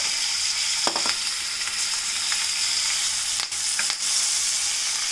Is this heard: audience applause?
no